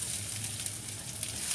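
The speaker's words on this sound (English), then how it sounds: "let's now add the marinated rice into this" Marinated rice tipped into a hot pan of cashews and raisins for a Bengali-style sweet Basanti pulao, giving a steady, moderately loud sizzle and frying hiss that runs unbroken throughout.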